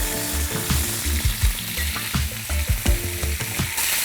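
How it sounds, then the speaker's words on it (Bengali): Cumin seeds and potato pieces fry in hot oil for Bengali alu dum, a loud, close, continuous sizzle broken by rhythmic scraping and stirring knocks throughout. "তেলটা গরম হয়ে গেছে, প্রথমে দেব জিরে, তারপর আলুটা দিয়ে দেবো"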